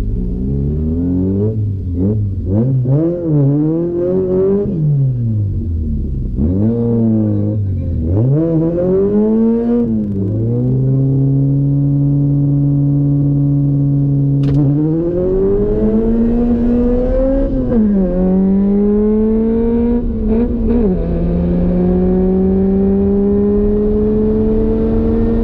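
A BMW 328ci in a drag race against small hatchbacks and a Vento 2.0 TSI, heard close and loud, its engine revving up in repeated rising sweeps through first gear and beyond, with brief drops between pulls.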